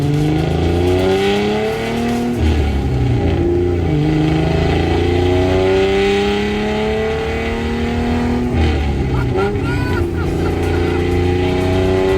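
A loud Nissan Fairlady Z with a bosozoku-style takeyari exhaust revs up and down repeatedly on a public road, throaty and close, with rising and falling pitch sweeps throughout.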